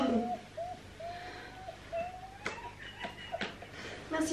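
Several people mimic seagull calls with their voices, giving short rising and falling cries in a series, followed by scattered laughter and chatter.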